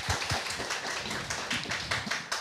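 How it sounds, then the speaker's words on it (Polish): Audience members at a book event about the Kalambur Theatre women clap for a credited editor present, a fairly quiet patter of scattered hands with a few sharper individual claps. "brawa dla niej"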